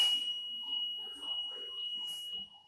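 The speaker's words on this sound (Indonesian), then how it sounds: "Alarm tetap nyala." A motorcycle anti-theft alarm holds a single piercing high-pitched tone steadily throughout, with someone talking quietly beneath it.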